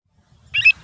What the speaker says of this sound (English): Avocet.